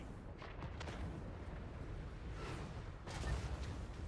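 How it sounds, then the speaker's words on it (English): Cannon fire rumbles through trees during a fantasy wargame battle, with a steady dense roar of booms and crackling volleys and a louder burst near the end, and no voices over it. "Cannons trying to shoot up and through all these trees."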